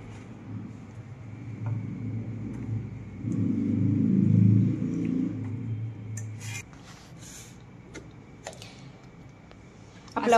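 A kitchen mixer grinder blends coconut, garlic, ginger, tomatoes, coriander and green chillies into a wet paste, giving a steady low motor rumble that swells midway, then cuts off, followed by a few scattered clicks.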